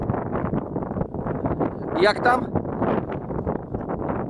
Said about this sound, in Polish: wiatr jest właśnie bardzo mocno